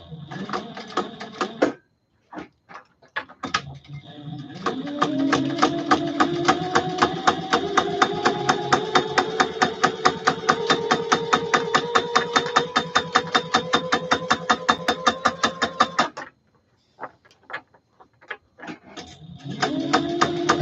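A sewing machine stitches the seams of a custom leather vest, running in long stretches of rapid, even needle pulses between short pauses, close and clear.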